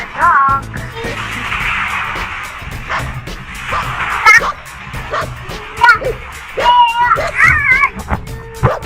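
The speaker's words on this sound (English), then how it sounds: "Have a dog." A dog barks and yips repeatedly in short bursts, near and fairly loud, mixed with whimpers and squeaky toy-like sounds while children talk and play over it.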